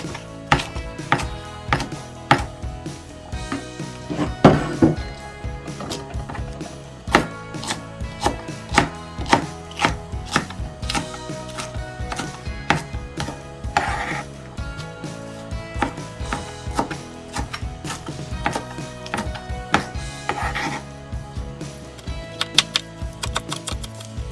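A knife chops fresh garlic leaves on a cutting board in fast, steady bursts of sharp taps, close and crisp, pausing briefly between runs, with no one speaking.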